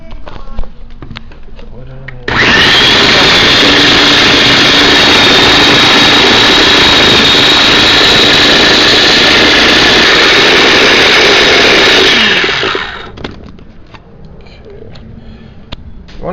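Food processor chopping onions to a liquid, a loud continuous motor whir that starts abruptly, holds steady for about ten seconds and then winds down, with no talk over it.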